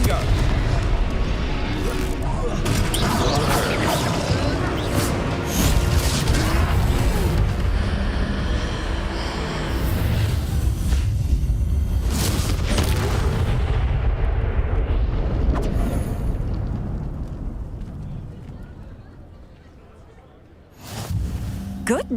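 Explosions from the Confringo spell in a video game fight against a troll, a sustained loud barrage of booming blasts and crashes that fades toward the end before a last burst, with voices shouting over it.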